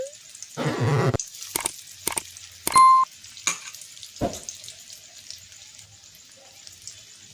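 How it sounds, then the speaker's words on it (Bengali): Elephant foot yam fritters (ol bora) deep fry in hot oil, with a short burst of sizzling followed by several sharp clicks and clatters of utensils before the sound fades to near quiet. "একটু সময় নিয়ে ভাজবেন, তাহলে ভেতর অবধি একদম পুরো মুচমুচে করে ভাজা হয়ে যাবে।"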